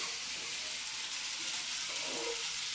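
Onions fry in oil in a pan, a steady close hiss and sizzle running throughout with faint stirring near the end.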